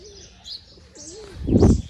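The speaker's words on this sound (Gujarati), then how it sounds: "સવારમાં કબૂતરા બી આવી ગયા" Pigeons in a morning setting give soft, low cooing notes, a faint wavering coo early on and a louder burst near the end with a brief flutter-like rustle.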